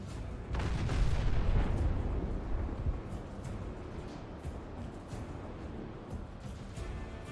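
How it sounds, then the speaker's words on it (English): A mortar brig firing in the Naval Action naval battle game: a heavy deep boom near the start, followed by a rumbling, crackling tail of distant gunfire and cannon shots. "the mortar's firing at Dodds"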